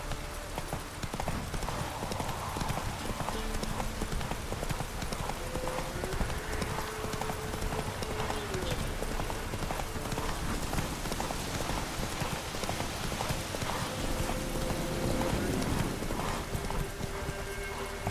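Roach, the horse in The Witcher 3, gallops with a fast, continuous hoofbeat rhythm that stays loud and close throughout, with faint game ambience beneath.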